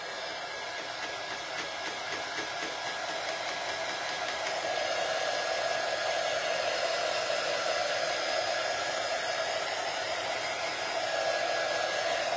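A dryer blows steadily to dry chalk paint, a constant close whooshing hiss that gets slightly louder partway through, with no one talking.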